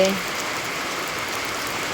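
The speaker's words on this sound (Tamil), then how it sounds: "இந்த மழை அதிகமாக பெஞ்சாலே" Heavy rain falls in a dense, steady hiss on surfaces, a continuous, fairly loud wash of drops throughout.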